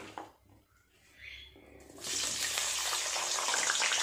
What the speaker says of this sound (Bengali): আলুগুলো আগে ভাজা করে নেবো